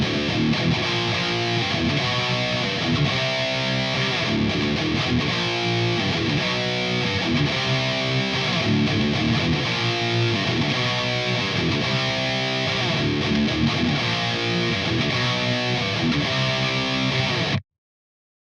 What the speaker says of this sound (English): And then the distortion kicks in, and it goes like this.